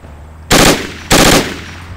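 Two loud, close bursts of automatic gunfire in the Battlefield 2 Project Reality game, each lasting about a quarter second and separated by a brief gap, with no voices.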